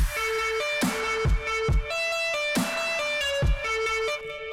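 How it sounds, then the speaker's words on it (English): A sustained synth lead pumps rhythmically under sidechain compression, its volume dipping sharply each time a punchy kick or snare hits, then swelling back between beats. "it creates a ducking sound"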